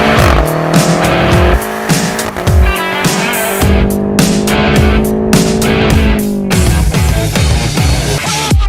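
A 600-horsepower BMW X6M (F86) in race mode accelerates hard. The engine roars loudly and up close, its pitch climbing through several gears, with sharp shift breaks and some tire noise between the pulls.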